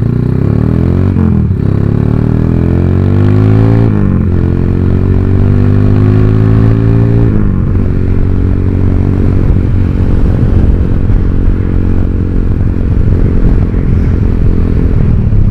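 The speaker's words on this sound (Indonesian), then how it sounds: "Motor kan berbet-berbet" A modified Honda Tiger motorcycle engine runs loud and close, with a throaty idle broken by several rising revs before settling into a steady, rough rumble.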